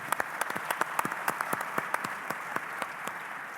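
Conference audience clapping for a special announcement, a moderate round of applause with distinct individual claps standing out, steady and fairly close, no talking over it.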